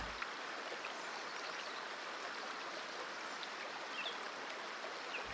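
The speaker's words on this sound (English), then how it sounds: "turn the shower on, and when it's at a suitable temperature for you, just step under the water" Shower water pouring down steadily in a bathroom, a continuous even hiss of falling spray at moderate level with no voices throughout.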